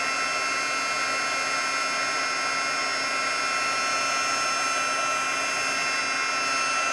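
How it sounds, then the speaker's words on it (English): Heat gun blowing a constant, loud, unbroken hot-air whine while melting embossing powder on a papercraft project, steady throughout with no pauses. "after you run the heat gun over it, it is just a little bit warped like that"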